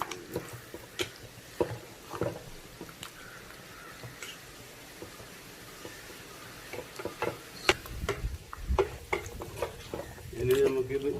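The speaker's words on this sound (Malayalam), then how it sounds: "ചിക്കൻ ഇട്ട് നന്നായിട്ടൊന്ന് മിക്സ് ചെയ്യാം" Chicken is stirred into a yoghurt curry in a pan, a run of wet squelching stirs and spoon knocks against the pan, some louder near the end, heard close with faint background speech.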